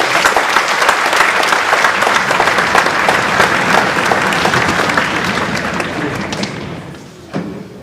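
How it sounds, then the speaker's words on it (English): Loud, dense applause from a concert audience at a middle school orchestra performance, sustained for several seconds before tapering off, followed by a single dull thump near the end. "so please give yourselves a round of applause."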